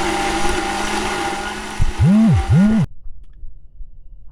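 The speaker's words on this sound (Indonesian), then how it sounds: "Itulah proses blender atau mesin blendernya sedang bekerja." An electric kitchen blender grinds spice paste for cooking in a steady whir, then its motor pitch swoops up and down twice in quick pulses before it cuts off into near silence.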